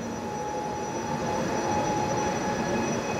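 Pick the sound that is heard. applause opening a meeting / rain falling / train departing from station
train departing from station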